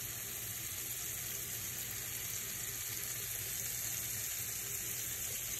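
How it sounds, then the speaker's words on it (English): Shrimp sizzling in hot garlic and olive oil over high heat, a steady, even hiss of frying oil that stays constant and fairly quiet throughout, with no voices. "we're going to put our shrimp in first"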